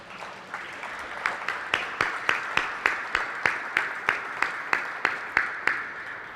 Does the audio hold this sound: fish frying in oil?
no